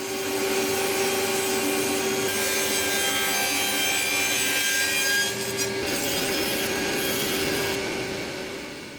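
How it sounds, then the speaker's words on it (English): Black walnut being sawn into a thin strip, a steady, loud rasping stroke noise that runs continuously and close up, with no talk over it. "I've got a piece of black walnut that I'm going to cut into a thin strip."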